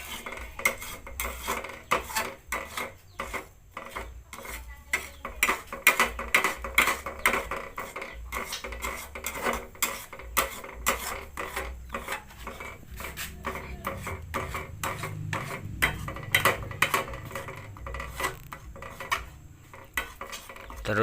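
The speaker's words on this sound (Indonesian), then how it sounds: "Jangan lupa diaduk-aduk ya teman-teman supaya tercampur dan tidak gosong." A utensil stirring food in a pan to keep it from burning, giving rapid, uneven scraping and clinking of metal against the pan, steady and close for the whole stretch with a faint sizzle underneath.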